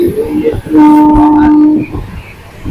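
Inside a carriage of a train travelling from Malda to Guwahati, the car rumbles and clatters while a steady tonal horn-like note sounds for about a second mid-clip, close and loud over the running noise.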